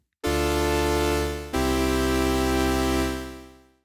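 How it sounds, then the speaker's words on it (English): A buzzy, bright raw sawtooth wave from the Arturia Pigments synthesizer holds steady, changes to a new note partway through, then fades out smoothly. "So that sort of raw sawtooth wave sounds like this."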